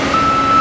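Reversing beeps from beach reprofiling machinery at Anglet, a steady high electronic tone over rumbling engine and surf noise, brief and moderately close.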